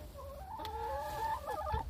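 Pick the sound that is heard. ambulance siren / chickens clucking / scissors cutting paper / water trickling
chickens clucking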